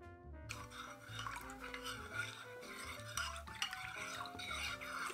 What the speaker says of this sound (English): I think it's stirred.